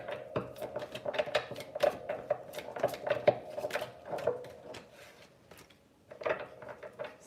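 Tarot cards being shuffled by hand, a rapid run of crisp papery riffles and taps, with clustered bursts and short pauses, close and moderately loud.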